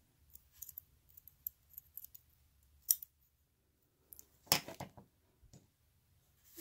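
Small scissors trim excess cord during jewelry repair: a few quiet, sparse clicks, then one sharper snip near the end, alone in a quiet room.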